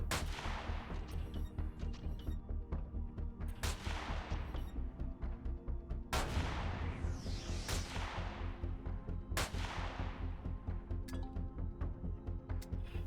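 7.62 gunfire in Empyrion zero-G combat, a rapid rattling stream of shots punctuated by several louder, sharper cracks that ring out with sweeping echoes, loud and close throughout.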